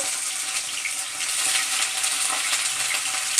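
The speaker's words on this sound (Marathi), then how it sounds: "तेल गरम झालं आता ही त्यामध्ये जे वांगी कापून घेतलेली ती लगेच घालून घेते" Cut eggplant pieces frying in hot oil in a pan, a steady close crackling sizzle running throughout with faint stirring scrapes and no voices.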